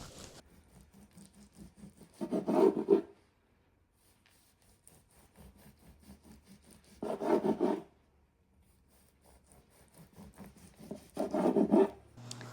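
Three short bursts of soft rhythmic sawing, a knife rasping back and forth through rolled biscuit dough filled with salsa and cheddar, separated by quiet pauses.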